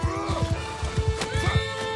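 In the video game Mount and Blade 2: Bannerlord, a horse is hit and neighs with a shrill whinny over rapid hoofbeats and clattering noise from a castle siege battle.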